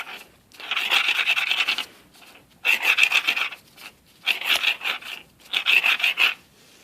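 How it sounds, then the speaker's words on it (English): A clutch plate from a Genie GX9000 screw-drive garage door opener is scraped back and forth against concrete, making four loud, rasping strokes separated by short pauses. "You're going to put them on a hard surface such as concrete, and you're just going to move it against the concrete."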